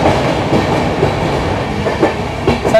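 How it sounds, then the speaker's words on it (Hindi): The Kriya Yoga Express runs through Santragachi station without stopping: a loud, steady rumble of wagons with rhythmic clickety-clack of wheels over rail joints, heard from on board, with no talking. "तो फिलहाल हमारी ट्रेन स्किप कर रही है संतरागाछी रेलवे स्टेशन।"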